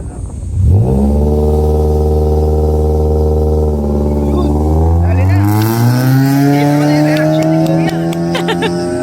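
Street race cars launching from a red-light start, with a turbocharged Ford Ranger pickup among the field, engines roaring loud and close as they rev up and climb through the gears in one continuous, rising drone.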